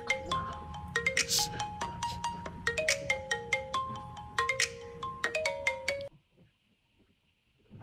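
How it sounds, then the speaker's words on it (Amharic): A mobile phone's melodic ringtone plays for an incoming call, a loud repeating tune of bright notes that cuts off abruptly after about six seconds, leaving near silence. "ደውለች አንሳው።"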